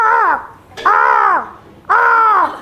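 A voice imitates a crow's caw three times, harsh drawn-out calls separated by short pauses, close and loud.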